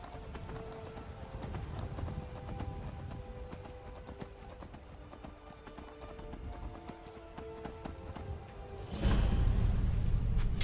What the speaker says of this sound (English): Now I'll just let the horse go.